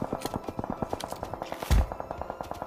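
Rapid bursts of automatic gunfire in the battle royale game PUBG Mobile, with repeated sharp shots in a steady rhythm and one heavier, louder blast near the end, all close and prominent.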